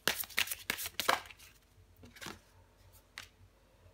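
A deck of oracle cards is shuffled in quick riffling bursts, then a few softer slides and taps as cards are drawn and set down, close and fairly quiet.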